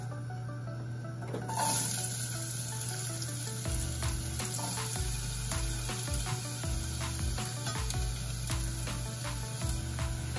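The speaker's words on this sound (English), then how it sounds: "I heard a sizzle, it's ready to go." Onions sizzle steadily in hot oil, a continuous crackling hiss dotted with small pops, over a low electrical hum; no one speaks.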